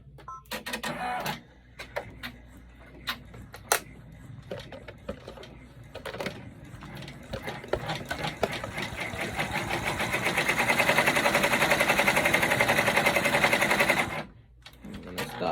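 An embroidery machine stitches an in-the-hoop bag, starting with scattered taps and clicks, then building to a loud, steady rapid rattle of needle strokes for several seconds before stopping abruptly.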